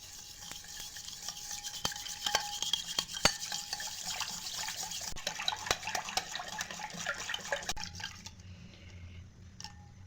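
Sugar and milk stirred together in a bowl for cake batter: a steady run of wet scraping and light clinking strokes, close and fairly busy, fading to quieter mixing near the end.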